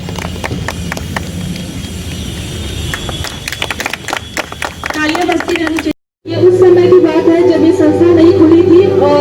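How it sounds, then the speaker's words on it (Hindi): An audience at a Gorakhpur public event applauds in a steady run of claps, loud and close, followed by a brief break and then a louder stretch with a voice and background sound over it. "तालियां बजती रहनी चाहिए।"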